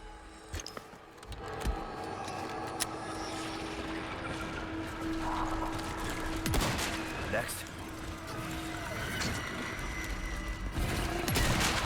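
Pistol gunfire in Resident Evil 4 crackles through a busy stretch of game combat, with several sharp separate shots spread unevenly over a steady din of background noise.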